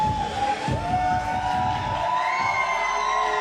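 Wrestling crowd at a Super Shogun Wrestling show cheering, a sustained, dense roar of voices with shouts and whistles rising over it, moderately loud and continuous.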